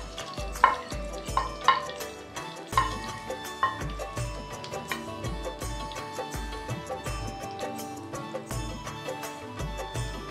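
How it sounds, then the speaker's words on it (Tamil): Chopped onions of two varieties sizzle in hot oil in a pan for a spicy duck fry. A soft, steady frying hiss runs under a series of clanking stirs and pan knocks. "ஸோ இப்போ நம்ம வந்து கட் பண்ணி வச்சுருக்கிற வெங்காயத்தை ஆட் பண்ணிடலாம்."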